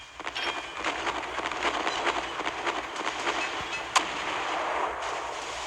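Warship secondary guns firing during a naval battle in the Naval Creed video game, a steady rattling stream of rapid distant shots with one sharper report, heard alone with no talking.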